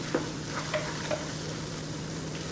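Poppy seed halwa with almonds being stirred in a pan, quiet scraping strokes and faint sizzling with a few soft spoon taps, close but low in level.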